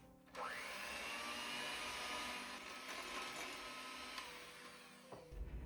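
A steady electric motor whirs continuously at close range, a mixer whisking batter at constant low speed with a faint rattle near the end.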